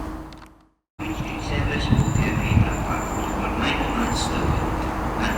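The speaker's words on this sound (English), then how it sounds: "arriving now is the HST. This time now it's arriving." A ScotRail HST on the 11:32 service to Glasgow Queen Street pulls into Stirling station, a steady, loud rumble of engine and wheels after a brief cut, with people talking over it.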